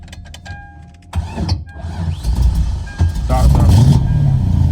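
An LS V8-swapped Lexus IS300 pulls away on a test drive around the block, its engine noise swelling louder over the last few seconds, mixed with interior clicks and bits of talk.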